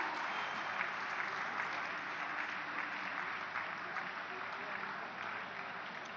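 Dense, sustained applause from a large crowd at the Kashi Tamil Sangamam inauguration, a steady wash of clapping that stays fairly distant and even across the clip.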